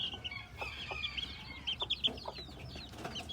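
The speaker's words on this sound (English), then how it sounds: "These are my little bantams." Small bantam chickens, including a broody hen raising chicks under a lamp, cluck and chirp in a steady scatter of short calls, close by and fairly loud with no talking.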